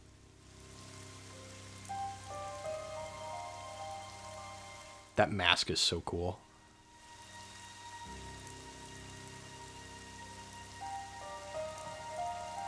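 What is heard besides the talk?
rain falling in a video game area (Xenoblade Chronicles 3)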